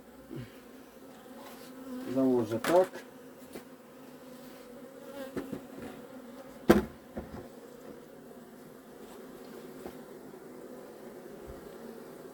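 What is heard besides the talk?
honeybees buzzing at hive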